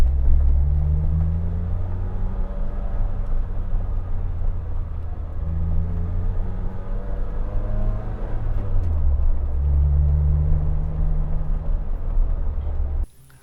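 Lotus Exige sports car driving along a main road, its engine a loud steady low rumble close by, pitch rising and falling through several gear changes, cutting off abruptly at the very end.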